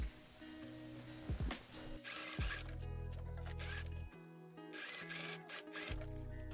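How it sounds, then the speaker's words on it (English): A sewing machine runs in short bursts, stitching the shorter edges of corduroy fabric together, a close whirring motor hum broken by brief pauses and small mechanical clicks, quiet overall with no talking. "Keep the seam allowance folded up and sew the shorter edges together."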